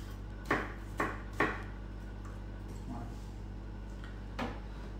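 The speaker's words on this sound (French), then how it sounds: "ensuite je les coupe en lamelles, puis en petits cubes" A knife chops cored apples into small cubes on a board: three quick, sharp knocks close together, then a pause and one more knock against a low steady background hum.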